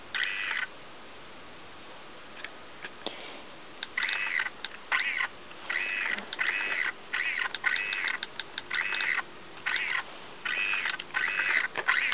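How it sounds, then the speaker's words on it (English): A broken PSP UMD disc drive makes repeated mechanical clicks and chirpy whirring bursts in an irregular stop-start rhythm. It is fairly faint and steady for several seconds, with no talking. "Don't worry about that sound. It's just a UMD drive."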